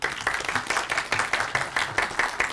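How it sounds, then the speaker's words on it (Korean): A room of students at a training-institute project presentation applauds to welcome a professor from Mokpo National University, hearty and rhythmic clapping that pulses steadily throughout. "우리 큰 박수로 모시도록 할게요"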